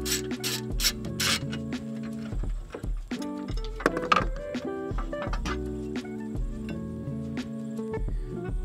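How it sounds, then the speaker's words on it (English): A 3/8-inch drive ratchet with a long extension and 10 mm socket backs out two motor mount bolts on a 2022-or-later Honda Civic, making repeated close ratcheting clicks and mechanical rasping over steady background tones. "grab your 3/8 drive ratchet with your long extension and your 10 millimeter socket. Go ahead and remove those two bolts."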